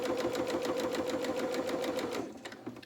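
A sewing machine top stitches a fabric storage bag, a fast, even rattle of needle strokes running close and steady before slowing and stopping near the end.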